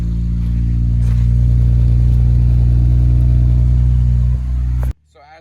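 A Honda Accord's CG engine idles loudly and steadily right after a jump start, a deep constant hum close by that drops slightly near the end before cutting to near silence.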